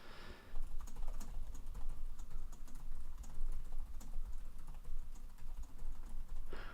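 Computer keyboard typing in quick, uneven bursts of close keystrokes that run steadily throughout, with no talking.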